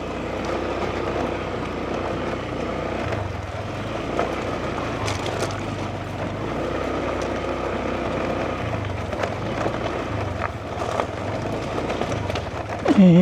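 A vehicle engine labours steadily on a soft, unpaved road early in the morning, a continuous low droning rumble with no talk, swelling louder in the final moments.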